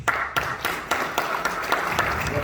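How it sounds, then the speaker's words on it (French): Applause from mourners gathered at a wake in Paris, a dense continuous patter of many hands clapping with a few sharper individual claps standing out, moderately loud and steady throughout. "Merci pour vos applaudissements."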